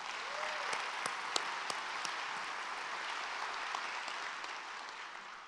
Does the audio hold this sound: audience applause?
yes